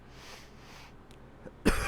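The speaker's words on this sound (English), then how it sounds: "Excuse my coughing." A short, close cough from a person bursts out at the end of a quiet stretch of faint background hiss.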